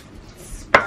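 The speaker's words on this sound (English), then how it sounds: "spray in, give them a healthy spritz" Hair spray spritzed onto curtain bangs, a single short, sharp hiss burst near the end after near silence, close and loud.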